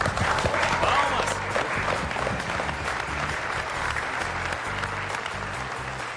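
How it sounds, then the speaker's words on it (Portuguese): An audience claps and cheers, the applause loud at first and then settling into a steady wash of clapping that continues to the end. "Palmas!"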